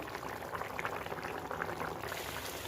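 Fish curry (chepala iguru) simmering after a little water is added to the fried fish, giving a steady, close bubbling and sizzling that carries on evenly throughout with no talk.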